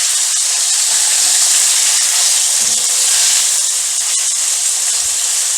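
Lamb frying in a pan for a lamb jalfrezi curry, giving a steady, loud hiss and sizzle that runs unbroken throughout with no talking.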